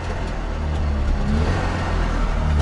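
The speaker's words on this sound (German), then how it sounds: "Hör mal. Wenn ich Gas gebe." A Trabant 601 engine, after accident repair, hums steadily and rises slightly as the throttle is pressed, a close, loud mechanical drone with no speech.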